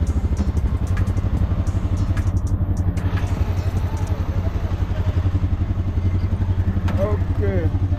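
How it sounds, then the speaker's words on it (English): A three-wheeled tuk-tuk's small motor chugs steadily at idle in Mombasa with a rattling, pulsing drone, close by and continuous, with brief voices faintly over it. "tuk-tuk is the motorcycle with 3 tires"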